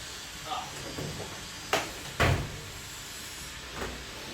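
A big drawer in a tool box slides and clunks, with two sharp metallic bangs close together over a hissy background, followed by a faint softer knock.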